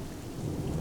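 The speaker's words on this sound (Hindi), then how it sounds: "धीरे धीरे बारिश तेज हो जाती है, साथ ही आंधी भी शुरू हो जाती है" Heavy rain pours steadily with the rumble of a thunderstorm building underneath, a continuous loud wash with no voices.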